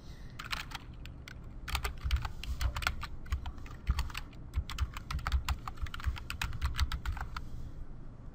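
Someone types a project name on a computer keyboard, with a fast, uneven run of crisp key clicks close by that continues steadily and then stops near the end, over a low room hum.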